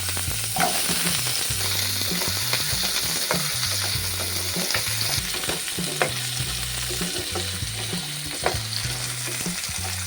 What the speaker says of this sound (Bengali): দেখো আলু আর গাজরগুলো কিন্তু আমি ব্রাউন করে ভেজে নিয়েছি।